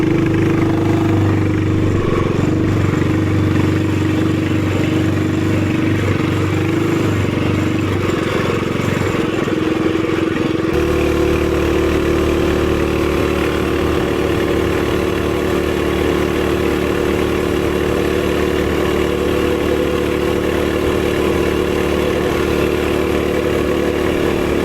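TrailMaster MB200 go-kart engine running through a custom exhaust pipe, loud and close and droning steadily; it revs higher and rougher for the first ten seconds, then settles into an even, lower run.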